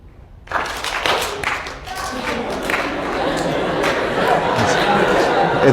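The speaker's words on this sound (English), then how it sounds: "When you see it, clap." An audience in a psychology lecture hall breaks into clapping after a short quiet moment, the applause swelling quickly and holding steady with murmured chatter mixed in.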